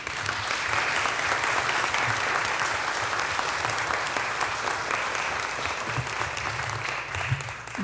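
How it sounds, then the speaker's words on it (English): Sustained applause from an audience at a city council meeting honoring a group of children, dense steady clapping lasting throughout at an even, fairly loud level with no voices over it. "ask everyone to give them a hand of applause"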